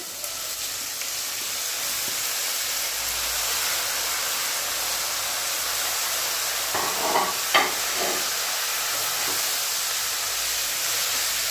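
Radish pieces fry in a pan with bay leaf, whole cumin, dried chilli, tomato and salt, giving a steady hiss throughout with a few louder stirring scrapes near the middle.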